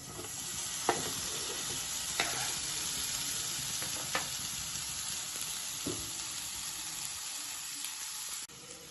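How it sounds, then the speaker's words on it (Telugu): Soaked apricots fry in a hot pan for halwa, giving a soft, even sizzling hiss with a few light clicks and taps, fairly faint and close, with no talk. "ప్యాన్ వేడయ్యాక ఆప్రికట్స్ని వేసుకోవాలి"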